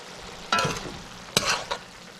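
Cabbage and chicken cooking in a pan, with a couple of short bursts of sizzling and stirring over a quiet background, close by and with no talking.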